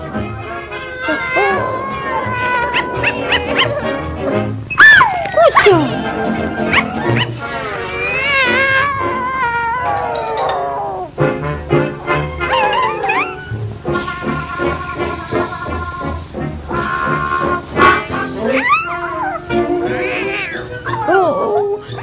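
A cartoon cat yowls, meows and hisses in long, wavering, loud cries, with sharp spits and screeches in between, while a voice shouts briefly over the racket.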